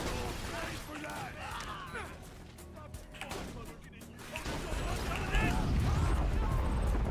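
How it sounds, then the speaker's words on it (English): Booming explosions and gunfire in Borderlands 2 crackle through the mix, with a heavier rumble near the end, while players talk excitedly over the top. "the explosions go through walls"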